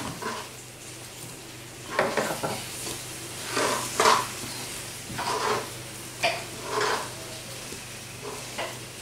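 Omelette pieces being stirred into Cantonese fried rice with vegetables, a soft sizzle under intermittent scraping and tossing strokes of a utensil against the pan, close and moderate in level.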